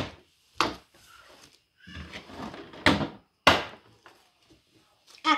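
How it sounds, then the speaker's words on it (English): A door is opened close by with a few sharp knocks and clunks of the latch and frame, and quiet shuffling between them. "Oh, I need to open my door."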